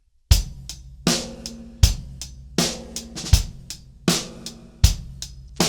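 Drum groove on a kit with a regular kick and snare backbeat, cymbal hits and soft left-hand 32nd-note ghost strokes filling the fourth beat, played at a steady tempo with no talking.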